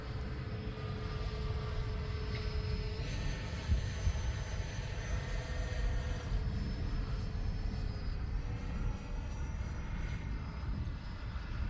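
RC model airplane, an X-Fly Alpha, flying overhead with a steady continuous engine drone and whine throughout, shifting pitch slightly as it passes.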